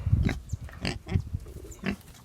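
A pig grunts and snorts in several short bursts at close range, rough low-pitched sounds separated by brief pauses.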